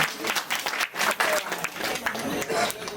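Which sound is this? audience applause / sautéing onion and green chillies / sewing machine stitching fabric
audience applause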